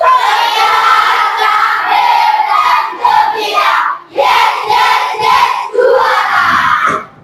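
Class 6 pupils in a classroom shouting their class chant together, loud group voices in rhythmic bursts with brief pauses between phrases.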